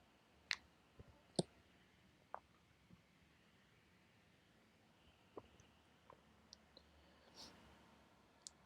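Sparse, quiet clicks of typing on a computer keyboard, coming as isolated taps with long gaps in a hushed room.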